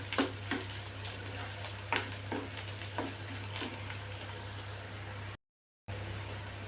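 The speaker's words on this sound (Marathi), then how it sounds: "कांदा थोडासा आपण परतून घ्यायचा। कांदा लवकर परतण्यासाठी यामध्ये थोडंसं मीठ टाकू शकता।" Chopped onion with a pinch of salt fries in a pan for a dry capsicum dish. A faint, steady sizzle is broken by scattered soft pops and stirring clicks over a low hum, with a brief silent gap near the end.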